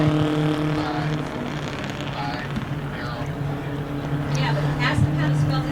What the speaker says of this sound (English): Going to bring the car up to speed coming down the backstretch.